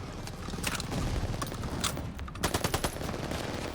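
Steady machine gun fire rattles through a Call of Duty Vanguard World War II battle, dense continuous bursts with a run of sharper, closer shots near the end over battlefield noise.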